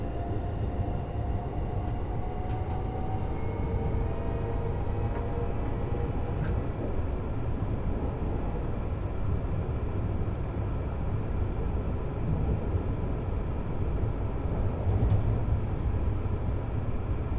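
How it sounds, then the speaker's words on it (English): Modded train engine in Train Sim World 5 on the East Coast Main Line route, a continuous low rumbling drone with faint tonal whine layered above, steady and even throughout with no talk. "I've even done a engine mod for this one, so the train does actually sound different, so it's got new sounds in it."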